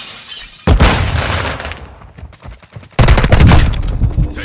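Bursts of automatic gunfire and sharp impacts in the video game Call of Duty Warzone 2, loud and close, one heavy volley, a lull of scattered shots, then a second intense barrage.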